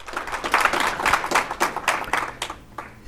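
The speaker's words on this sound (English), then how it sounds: "Can you give the last warm round of applause to Professor Maldonado Torres" An audience applauds warmly after a lecture by Professor Maldonado Torres, a dense patter of many hands clapping in rapid bursts that thin out toward the end.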